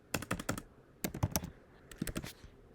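Typing on a computer keyboard while entering HTML code, three quick bursts of crisp, close key clicks separated by short pauses, with no voice.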